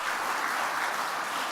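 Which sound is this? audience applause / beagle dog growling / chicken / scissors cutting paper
audience applause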